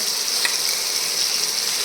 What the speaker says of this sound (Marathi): छान अशी जिऱ्याची फोडणी देऊन घेते